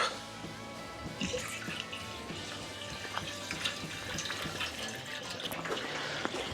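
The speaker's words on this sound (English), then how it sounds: "And fill that with water." Water runs steadily from a tap into a pot set on a burner, a continuous splashing rush with small clinks and drips throughout.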